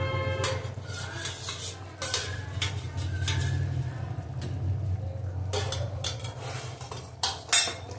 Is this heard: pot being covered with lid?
yes